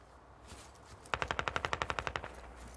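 Automatic rifle fire in a first-person shooter match with Russian special forces, a single rapid burst of about fifteen sharp evenly spaced shots ringing out close and loud over faint background ambience.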